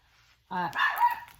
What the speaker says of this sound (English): The dog, BB, was making a lot of noise because she heard her daddy coming in.